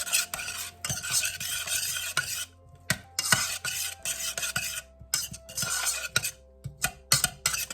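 Garlic stirred into a spaghetti pie mixture in a home kitchen: close, repeated scraping and clinking of a utensil against a pot, with a light sizzle underneath and brief pauses between strokes.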